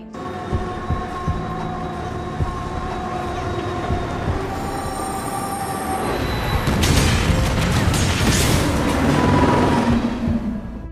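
A runaway train with no driver rumbles and roars in a film scene, with high sustained wheel squeal and a building, heavy wash of noise as it nears, and no voices.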